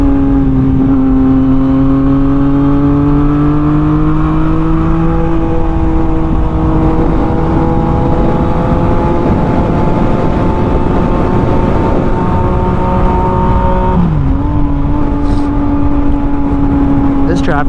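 A Yamaha FZ09 motorcycle rides along a dry road on a cold morning, its engine droning loud and steady with a rising pitch, then dropping sharply as the rider shifts gears near the end, under wind noise.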